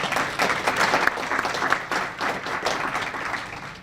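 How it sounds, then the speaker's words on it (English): Audience applause fills a Chamber of Commerce general membership luncheon in Salisbury, a steady round of many hands clapping, fairly close and sustained throughout without speech. "Can we have a round of applause for their support of the Chamber?"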